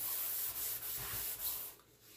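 An old stainless steel sink is scrubbed with a homemade soap made with yogurt. The rubbing strokes are steady and rhythmic, close and moderately loud, easing off near the end.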